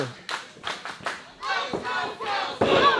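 A wrestling crowd in a ring arena yells and cheers in rising bursts, a few sharp shouts standing out before the noise swells into a louder, sustained roar near the end.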